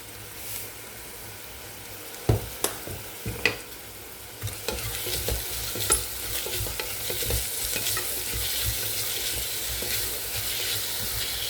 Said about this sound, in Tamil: இப்போ 3 பச்சை மிளகாய் நல்லா வதங்கட்டும்.